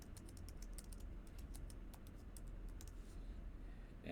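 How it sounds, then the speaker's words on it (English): Quiet rapid typing on a computer keyboard, a quick irregular patter of key clicks that pauses briefly before the end. "that is terrible typing"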